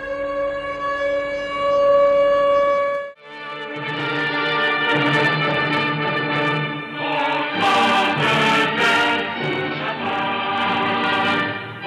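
Civil defense sirens wail across Istanbul's Dolmabahçe at 9:05 for the Atatürk commemorative silence, a sustained loud tone that breaks off and resumes as several overlapping sirens, rising and warbling together.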